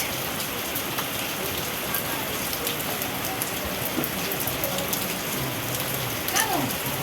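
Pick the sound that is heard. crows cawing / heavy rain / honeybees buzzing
heavy rain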